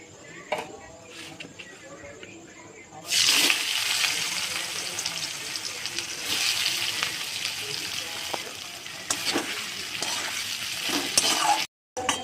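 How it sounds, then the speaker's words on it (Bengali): Onions sizzle and crackle loudly in a hot pan with melted sugar after a quieter start, with stirring scrapes running through the frying. "পেঁয়াজটা প্রায় ভাজা হয়ে এসেছে"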